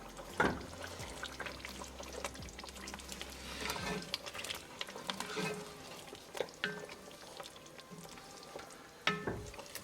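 Lamb curry with yogurt stirred in a pot after the lid comes off, with scraping spoon strokes, soft bubbling and a few clinks of the lid, moderately close and without talk.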